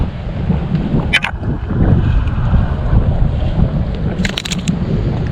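Strong wind buffets the microphone aboard a small fishing boat at sea, a continuous loud roar with some splashing and brief rattles.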